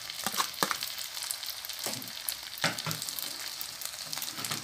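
Onions frying in a pan for spaghetti with sauce: a continuous bright sizzle, close and fairly loud, broken by a few stirring scrapes, with no voices.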